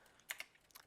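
A few quiet keystrokes on a computer keyboard, with two sharper taps early on and then a short run of lighter clicks, close and alone with no talking.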